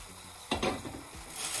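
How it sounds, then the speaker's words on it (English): Squash is stirred into a simmering tomato stew, a spoon scraping and sloshing through the pot in a few close strokes over a soft steady sizzle. "Stir this up to coat it with the tomato mixture."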